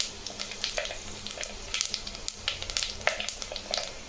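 Fenugreek and fennel seeds fry in hot oil, giving close, lively sizzling with quick crackles and pops scattered through a steady hiss, and no voices.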